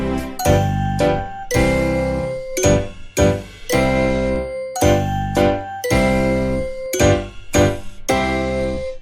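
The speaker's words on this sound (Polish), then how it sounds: "wszystkie dzwony biją, bim bam bom, bim bam bom" Bells from a children's song ring in steady repeated strikes, each one bright and clanging with a ringing decay, giving a loud chiming rhythm for about nine seconds with no voices.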